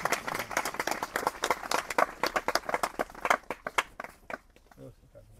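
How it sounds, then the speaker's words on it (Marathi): An audience at a religious gathering claps for an honoured elder, a burst of loud, rapid hand claps that thins out and fades over a few seconds. "दादांसाठी आपण टाळ्या वाजवूयात."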